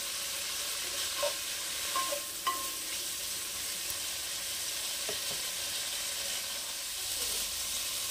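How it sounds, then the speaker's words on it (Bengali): Marinated prawns fry in a wok with a soft, steady sizzle, joined by a few light clinks and stirring scrapes, fairly quiet and close. "ম্যারিনেট করে রাখা চিংড়ি মাছগুলো। চিংড়ি মাছও বেশি ভাজবো না"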